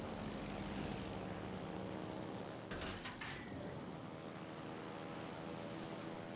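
Propeller airplane engines from a video game drone loudly and steadily throughout, with a brief rising roar in the middle as a plane passes close.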